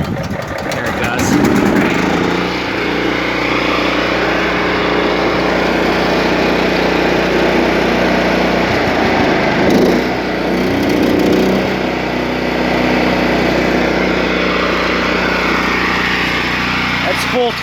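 A Scag 48-inch commercial walk-behind lawn mower's engine runs steadily and loudly close by, a continuous rough drone with slight variations in pitch.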